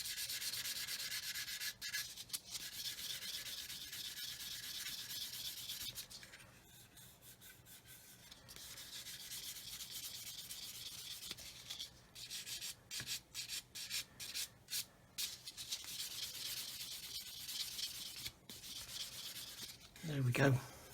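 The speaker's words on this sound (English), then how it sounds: "Just do some more sanding there." Steady rasping strokes of sandpaper smoothing a glued seam on a 1/48 Eduard Typhoon Mk.1b plastic model kit, close and fairly quiet, in long continuous runs broken by short pauses and a brief handling bump at the end.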